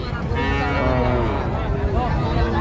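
Several cattle, including Sahiwal bulls, moo loudly and close by at a busy livestock market, low drawn-out calls overlapping amid a noisy background.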